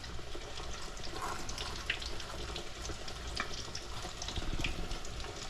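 Shrimp and tilapia fillets breaded and frying in a pan, a steady close sizzle and crackle of hot oil running throughout with no voices.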